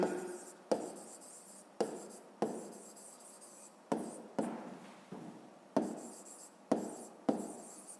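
Chalk or marker writing on a board during a physics lesson, heard as a steady run of short scratchy strokes, each starting with a sharp tap and trailing off, closely miked with no talk.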